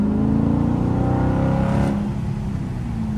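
A 392 Dodge Charger Daytona engine revs up close and loud, rising in pitch as it accelerates, then the roar eases off slightly near the end.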